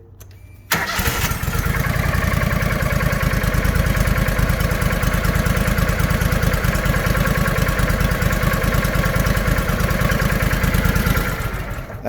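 A newly installed replacement engine starts and then runs steadily at a fast, even idle, loud and close, with a rapid regular firing pulse and no talk.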